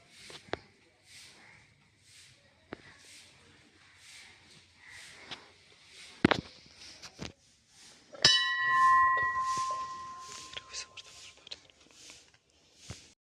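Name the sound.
temple bells ringing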